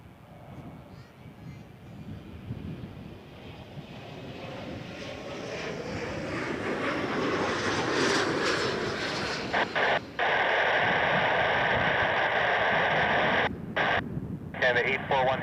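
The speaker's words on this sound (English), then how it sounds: "Embraer 175 coming in next, Jazz 553 from JFK" An Embraer 175 airliner on a Jazz flight comes in to land, its jet roar swelling steadily louder and closer over several seconds, with a faint radio voice and background chatter underneath.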